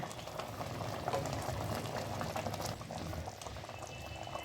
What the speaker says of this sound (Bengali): দেখুন সব ভালো করে ফুটছে, মিশে গেছে